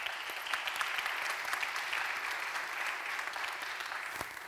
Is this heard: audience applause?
yes